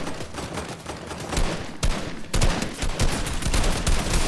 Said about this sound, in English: I hit him with every one of them fucking AR bullets